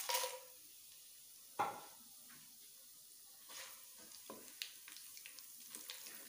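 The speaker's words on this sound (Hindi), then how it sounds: "अभी खड़े मसाले शामिल करते हैं तेल में।" Whole spices hit hot oil in a pan for lentil daal: a sharp burst of sizzle at the start, another crackle midway, then a soft, steady frying hiss with small pops and a few clinks close by.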